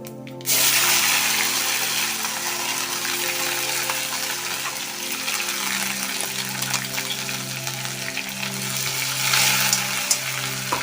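Curry leaves and ground masala paste for misal hit hot oil, setting off a loud, dense sizzle that starts abruptly and stays strong, with a low hum beneath it.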